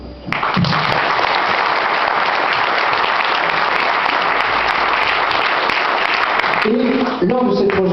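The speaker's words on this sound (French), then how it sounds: "On va l'applaudir." Loud, sustained clapping from an audience at a film screening in a village venue fills several seconds evenly, then fades as a voice starts speaking.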